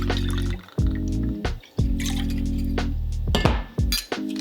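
Lemon juice for a Gold Rush bourbon cocktail is poured into a jigger or glass in several short, close, ringing streams that pitch upward as they fill, separated by brief pauses, with no one speaking.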